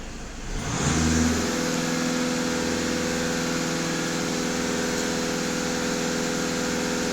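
A Skoda Octavia 2.0 TDI VRS diesel engine starts up from quiet and settles into a steady, raised-RPM drone with strong harmonic tones, holding a constant pitch and level close by.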